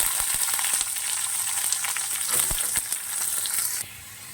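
Chopped onion dropped into hot oil with browned garlic crackles and sizzles loudly and densely up close, then eases off to a quieter fry.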